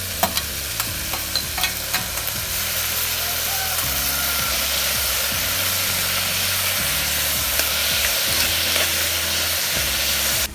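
Chopped tomato goes into a hot pan with smashed garlic and fries with a loud, constant sizzle, punctuated by sharp utensil clicks and a low background hum.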